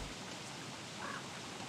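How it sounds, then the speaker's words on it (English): Rain in a wintry Wurt adventure, a soft, steady, even hiss, faint and continuous throughout with no distinct drops or voices. "My god, it's already raining again."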